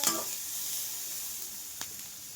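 Onions sauté in a pan for aval (poha) upma: a faint, steady sizzle runs throughout, with one soft stirring scrape at the start and a brief tick later.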